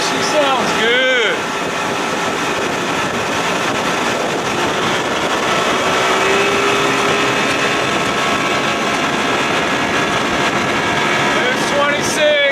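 A 1992 Johnson 60/70 hp outboard motor drives a boat at cruising speed, a loud, steady engine drone with a whining tone and rushing wind and water noise, close up and sustained.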